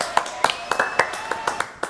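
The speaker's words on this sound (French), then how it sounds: "on applaudit Julie" A small studio audience claps for a guest named Julie on a live French show. The claps are quick and rhythmic, fairly close, and sound like only a few people clapping.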